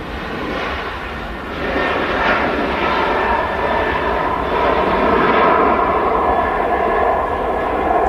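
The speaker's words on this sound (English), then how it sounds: "let's follow this aircraft out. It's going to use a lot of runway again." An aircraft takes off from the runway at Manchester Airport, its engines a loud, steady roar that swells slightly partway through and then holds, with no voices.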